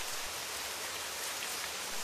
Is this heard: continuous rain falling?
yes